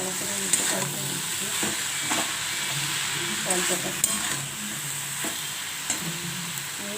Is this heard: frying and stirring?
yes